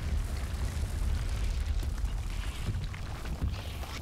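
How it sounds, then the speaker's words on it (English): A huge explosion in the Medal of Honor: Warfighter video game rolls out as a deep, sustained rumbling boom with dusty low-end roar, heard alone without talk. "Oh, that was a huge explosion."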